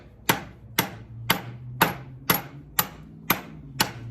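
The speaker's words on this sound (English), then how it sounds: "This heavy chopping." An SZCO Silver Tech Bowie knife chops wood in heavy, evenly spaced blows, eight sharp, loud close-up thwacks about half a second apart, each with a brief woody ring.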